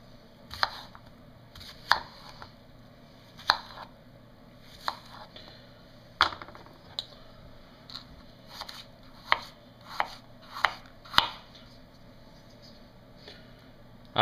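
A Chicago Cutlery paring knife cuts with a sawing motion, giving a series of sharp, irregular clicks and snaps spread over several seconds, close and fairly quiet.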